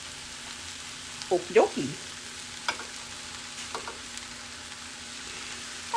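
Hash browns fry in oil with a steady, soft sizzle throughout, broken by a few clattering stirs and scrapes near the start and middle; someone briefly speaks.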